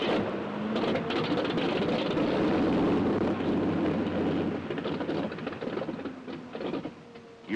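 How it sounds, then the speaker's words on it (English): A Piasecki HUP Retriever helicopter engine starts, whining and rumbling continuously, with a rising mechanical drone and rattling clatter layered over a steady low hum. "Start the helicopter."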